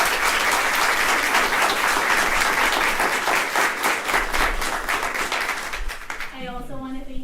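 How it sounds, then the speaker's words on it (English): Loud, sustained applause from an audience at a fifth grade speech contest, filling the room for several seconds before a voice starts speaking near the end. "Can we please give them a big round of applause?"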